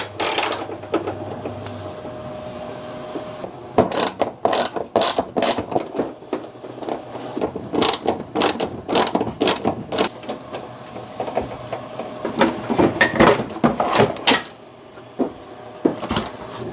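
Ratchet wrench clicking in repeated bursts while pulling the power steering pump off a 1993 Chevy Blazer, sharp metallic ticks in quick runs with short pauses, close by and fairly loud over a faint steady hum.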